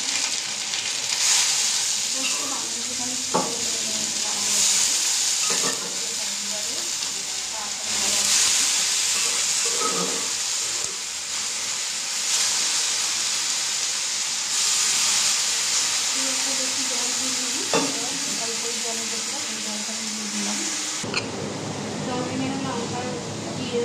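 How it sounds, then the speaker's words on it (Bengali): Shredded cabbage and crushed ginger fry in hot oil with a loud, continuous sizzling hiss, broken up by scraping stirs and occasional clinks; a voice speaks faintly now and then over the frying. "তেল গরম হয়ে গেছে, আমি আদাটা দিয়ে দেবো। বাঁধাকপিটা দিয়ে দেবো।"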